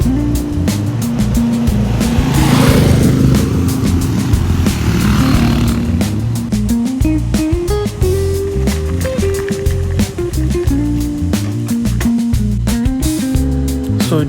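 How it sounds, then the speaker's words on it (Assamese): A motorcycle carrying two riders on a ride toward Nongstoin hums steadily, its engine tone shifting in pitch as it changes speed, loud and close for the whole stretch with no talk. "আমি যে বাইক ৰাইড কৰি আছোঁ"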